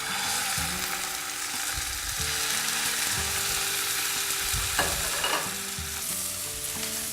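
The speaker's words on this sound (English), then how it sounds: "And now we're going to fry it in our frying pan." Springbok meat frying in olive oil in a frying pan, a steady loud sizzle running throughout with bursts of crackling spatter, close up and with no talking.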